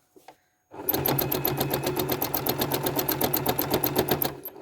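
A sewing machine stitches loops of high-contrast thread into a quilt block, running in a steady, fast rhythmic chatter for about four seconds after a brief soft knock, loud and close with no talk.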